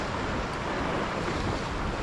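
Continuous broadband rush of large ocean waves rolling and breaking at a fishing spot, with wind noise mixed in, steady and fairly loud throughout.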